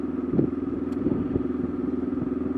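A motorcycle ride on a work-zone street: a steady mid-pitched engine drone runs throughout at constant level, with a few faint clatters over it.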